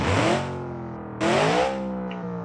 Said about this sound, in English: what we have here under the bonnet or under the hood is a V8 engine, a twin turbo